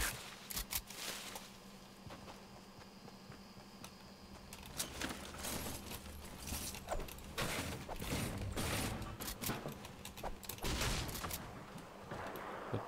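Fortnite gunfire during a duo ranked match: quiet, distant bursts of rapid shots in irregular clusters, mixed with mechanical clicks and rattles of in-game movement, with almost no voice.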